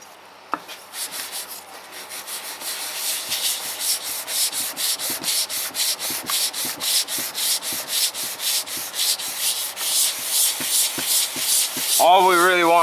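A small engine cylinder head is lapped flat by hand, rubbing against an abrasive surface in steady back-and-forth strokes, close and fairly loud, about two strokes per second throughout.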